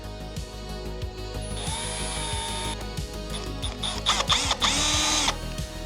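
A power drill boring pilot holes during a car cooling fan install, whining steadily with rising pitch and short bursts of higher-speed drilling near the end, close and fairly loud.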